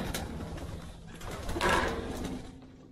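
Russian tumbler pigeons coo inside a ventilated pigeon loft, a low murmuring burble under a dense, noisy background, rising briefly in the middle of the stretch.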